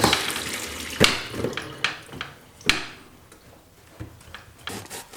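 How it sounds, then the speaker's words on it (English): Water drained off boiled shallots for a sweet shallot barbecue side dish. A splashy hiss fades out, broken by intermittent knocks and clunks of the pot, close and fairly loud. "Time to drain the shallots."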